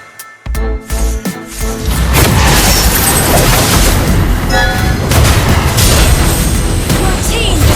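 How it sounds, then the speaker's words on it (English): A turret being destroyed in the mobile game Mobile Legends, a heavy booming explosion followed by a sustained loud rumble and crackle beneath game announcer voice lines. "Your team destroyed a turret!"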